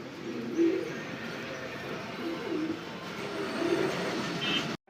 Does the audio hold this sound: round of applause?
no